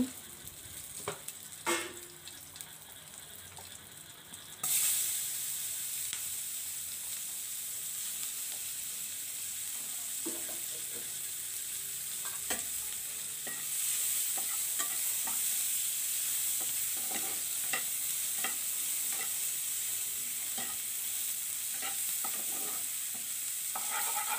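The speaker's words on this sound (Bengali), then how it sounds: "তো এখন মাছের তেলের মধ্যে আমি দিয়ে দিব পেঁয়াজ কুচি।" Chopped onions hit hot fish oil in a pan and break into a loud, steady sizzle that holds to the end, with occasional stirring clinks and scrapes; before that, quieter kitchen handling.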